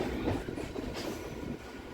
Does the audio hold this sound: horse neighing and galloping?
no